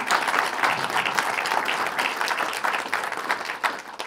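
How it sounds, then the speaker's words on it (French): Audience applause at the end of a talk on security, mobility and efficiency, a steady close clatter of many hands clapping without a break for about four seconds. "Bah d'abord, on peut t'applaudir, Johan, c'est un bel exposé."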